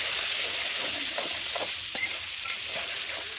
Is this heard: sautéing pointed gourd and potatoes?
yes